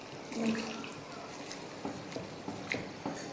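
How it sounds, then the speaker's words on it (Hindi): Water is poured into a pot of lobia masala as it cooks, a short liquid splash and trickle with a few faint knocks, no voices. "इसके साथ ही हमने इसके अंदर थोड़ा सा पानी ऐड कर देना है।"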